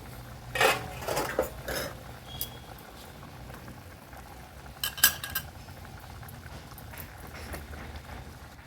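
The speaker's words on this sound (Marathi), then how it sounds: "हे मटणावरचं झाकण काढून बघूया" Metal pot lid lifted off mutton cooking over a wood-fired chulha, a couple of close clanks and scrapes, then quiet simmering before another sharp clatter.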